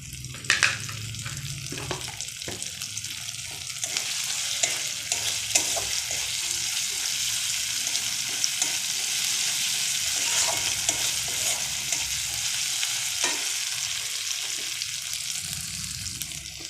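Spices frying in a pan with green peas for spicy potato curry, a continuous close sizzle broken by repeated scraping stirs and light clinks, with no speech.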